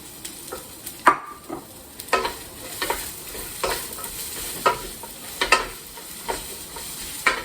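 Long beans being stirred through a thick sauce in a hot pan for a keto pad prik king, giving a soft sizzle under repeated scraping and clacking strokes of the utensil, close by and with no talking.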